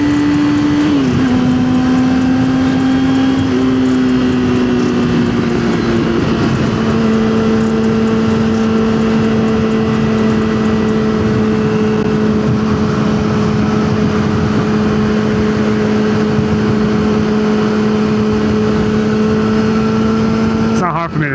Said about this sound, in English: Look at the traffic right now.